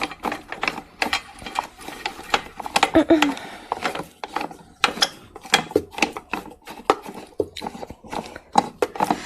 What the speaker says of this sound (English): the first thing you gotta do is screw in those 2 holes